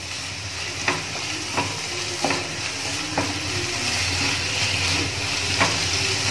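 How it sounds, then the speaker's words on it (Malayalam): Onions fry with turmeric in a pan for biryani, a steady close sizzle broken by several sharp clicks of a spoon stirring and scraping the pan, no voices. "ഇതൊന്ന് നന്നായി വഴറ്റിയെടുക്കാം."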